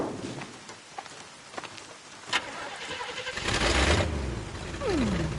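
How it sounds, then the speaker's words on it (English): A car engine in a video game cranks and catches, then settles into a running idle with a low growl, preceded by scattered game clicks and thuds and a rising-falling whine near the end. "Engine still purrs nicely."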